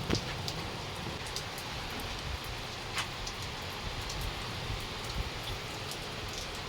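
Steady rain falls outside a house, a constant hiss with scattered sharp drop ticks throughout, fairly quiet and with no one talking.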